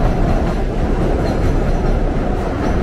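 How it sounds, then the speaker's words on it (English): Loud, steady rumble of a New York subway train running at top speed, about 30 mph, on the elevated Riverside Drive Viaduct along Broadway, with a continuous rattling roar and no voices. "this train is going at top speed now, approaching 30 miles an hour"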